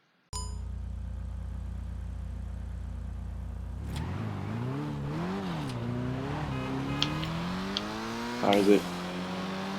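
A Dinka Jester RR sports car modeled on a 2020 Toyota Supra starts in GTA 5, a steady idle hum giving way to a close engine note that rises and falls as it revs and accelerates, with a brief question spoken partway through.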